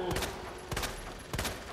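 Gunfire aimed at Birkin in Resident Evil 2 Remake, three sharp, loud shots spaced roughly half a second apart, each with a brief echoing tail over a constant low game ambience.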